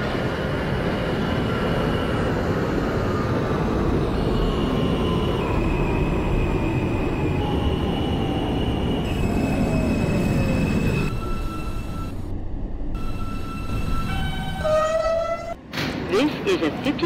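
An R160A subway train from the OpenBVE simulator runs steadily on the R line, with loud, continuous rumble and rail noise and rising and falling electric motor whine, while automated station announcements play over it.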